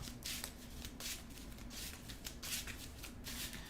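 A deck of Marvel Champions cards being shuffled by hand, a quiet run of crisp riffling bursts repeating every half second or so, close and alone.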